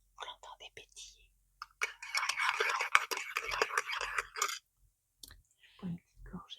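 A fizzing drink crackles softly and close by in a short burst of bubbly hiss, set between quiet whispered talk.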